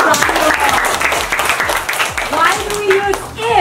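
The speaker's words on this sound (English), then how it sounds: "How about a big round of applause for Brando?" Classroom students clapping in a loud, dense round of applause close by, with voices mixed in throughout.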